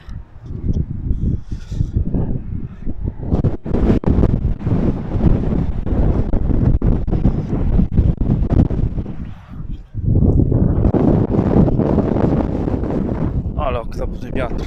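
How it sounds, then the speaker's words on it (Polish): Strong gusts buffet the microphone in heavy, uneven bursts of low roaring noise at the Brahehus castle ruins in Gränna, Sweden, with a brief lull before the wind surges back hard. "okropny wiatr."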